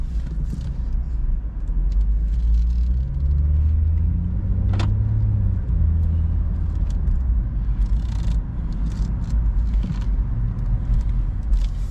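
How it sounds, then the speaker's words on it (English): A 2018 BMW 440i convertible cruises with the top down on an open road, with a steady low engine and tire rumble, wind noise, and a brief sharp click partway through. "let's go ahead and see how this BMW 440 handles out on the open road"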